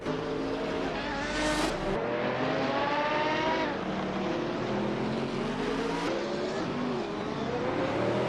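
AI-driven GTR race cars at Monaco in a racing simulator, with high engines revving and shifting continuously, pitch climbing and dropping through gear changes as cars pass close by.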